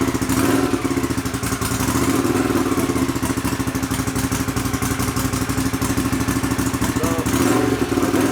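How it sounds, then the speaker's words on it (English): A Honda CX500 motorcycle with bigger carburettor jets fitted runs steadily after starting, giving a loud, close, continuous rumbling idle with rapid mechanical clatter and no talk over it. "we'll start the bike and just see what we've got"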